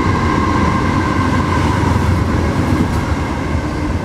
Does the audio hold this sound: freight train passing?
yes